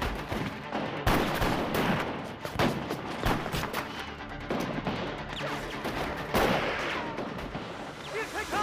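Gunfire in a war drama battle: repeated sharp shots and rattling bursts pile up into a dense, loud barrage, with shouting voices mixed in.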